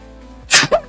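A single loud, close sneeze bursts out halfway through after quiet hum, followed by a short voiced exhale or sniff.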